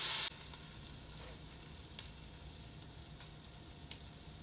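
Shrimp cook in a pot with a steady, close crackling sizzle, dotted by a few soft knocks and stirs, with no voices over it.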